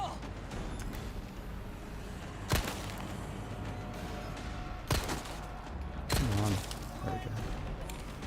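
Gunshots in the Resident Evil 4 video game: three sharp, isolated rifle cracks spaced a couple of seconds apart over a dense, rumbling game soundtrack, with a voice talking faintly in between.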